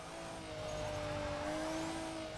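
A fully modified all-wheel-drive JDM race car with 666 brake horsepower drones at a steady pitch in Forza Motorsport 6, its engine tone holding and slightly climbing, heard alone and moderately quiet.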